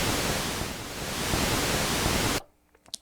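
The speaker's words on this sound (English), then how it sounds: "So here's just your noise source." Hiss from the Moog Source synthesizer's noise source, a steady broadband rush lasting over two seconds alone, then cutting off abruptly into near silence with a couple of faint clicks.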